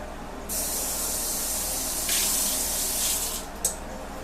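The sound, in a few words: tap water filling a can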